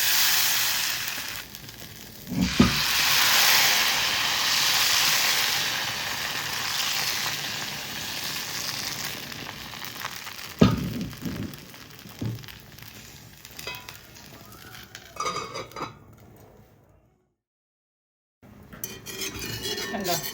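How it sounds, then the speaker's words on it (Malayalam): Appam batter ladled into a hot non-stick pan and swirled, giving a soft continuous sizzle with a couple of clinks of ladle on metal, then a short silent gap and a brief return of light kitchen clatter. "ഇതാ നമ്മുടെ മാവ് കോരി ഒഴിച്ച് ചുറ്റിച്ചു കൊടുക്കാം"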